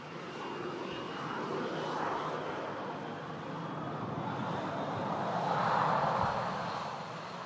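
A Boeing 747 departs Manchester Airport during a storm, its engines a steady, fairly distant roar that rises and peaks near the end amid wind and rain noise.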